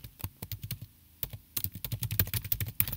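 Quick, close typing on a computer keyboard, a steady patter of clicky keystrokes with a short pause midway before a denser burst resumes.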